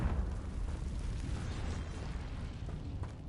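Confringo spell blast in the Hogwarts Legacy video game: a sustained, loud, rumbling explosive roar with crackling bursts, steady throughout with no talk.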